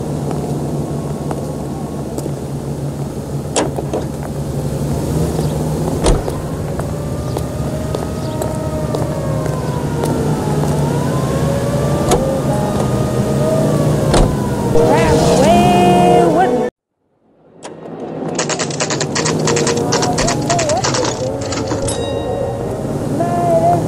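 A car drives in the video game L.A. Noire, a steady engine hum and road rumble with a siren-like wavering tone over it, broken by a brief dropout near the end, while characters talk.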